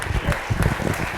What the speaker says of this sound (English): Let's clap one more time for him